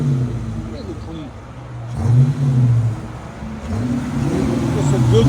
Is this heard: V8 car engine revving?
yes